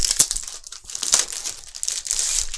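Plastic packaging around board game punch boards being handled, close crinkling and crumpling in irregular bursts with a brief tearing quality.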